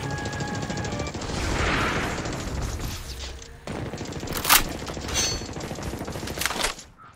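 Rapid automatic gunfire from Call of Duty Mobile in a battle royale match, dense sustained bursts filling the first seconds, then sharper separate shots and cracks toward the end, loud and close with no talk.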